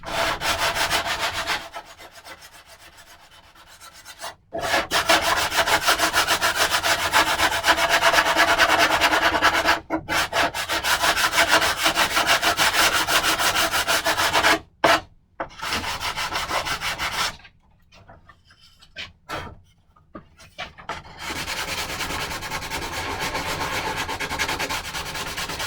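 A surface is sanded with long, steady rasping strokes that run loud and continuous, broken by several short pauses and quieter stretches where the rubbing eases off.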